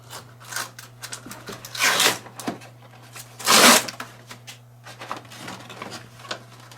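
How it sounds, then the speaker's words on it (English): Backing strip peeled off an adhesive litter box liner: short crinkly tearing and peeling bursts, two louder rips among softer rustles and handling noises, close by over a low steady hum, no talk. "I'm going to go in here and pull the next strip off, the T strip at the top."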